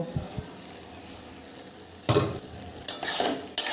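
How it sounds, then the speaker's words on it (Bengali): Ash gourd curry being stirred in a pan, with a low background hiss broken by a few short scraping bursts of the utensil against the pan near the end. "আর এবার এই যে আমি একটু নাড়িয়ে নিচ্ছি"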